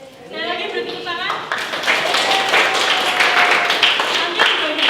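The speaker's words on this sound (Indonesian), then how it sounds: "Sekali lagi beri tepuk tangan." A classroom of students claps for the winning team, the clapping swelling after a teacher speaks and continuing as a steady, loud patter.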